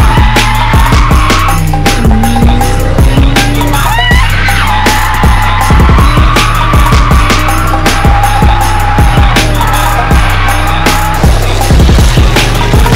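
A drift taxi car at a Moscow drift expo track is heard up close and loud, with continuous engine roar, repeated tire squeals and bursts of rumbling as it slides, with no speech.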